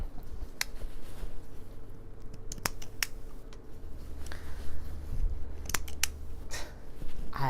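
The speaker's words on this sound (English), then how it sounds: "I do not know why these scissors are catching like that" Several sharp, crisp snips of scissors trimming chain-pieced sewing thread, catching as they cut, at irregular intervals against a low background hum, close and distinct.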